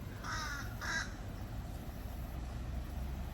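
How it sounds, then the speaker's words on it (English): A crow caws outside a home, two harsh, rasping calls close together near the start, then a steady low rumble of background noise with no further calls. "I don't know if it's a crow or what."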